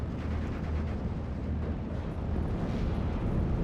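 Rumbling explosion from a Typhoon aircraft attack in the WWII strategy game Steel Division: Normandy 44, a dense, steady low roar that holds at the same loudness throughout without distinct separate blasts.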